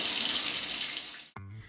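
Shower water runs as a steady, bright hiss that cuts off abruptly near the end. A short tonal sound follows, and no one speaks.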